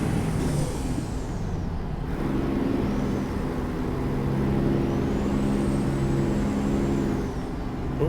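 A dump truck's air brakes hiss in the American Truck Simulator game, with high sweeping whines over a steady low engine and road drone that stays loud throughout.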